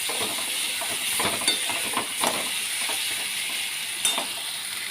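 Steady sizzling hiss of rice grains roasting in a hot pan over medium flame, with scattered scraping clicks as they are stirred; close and continuous, no voices.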